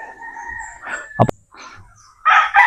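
Chickens clucking and calling close by, a few scattered bursts with a sharp knock in between, louder squawks at the end.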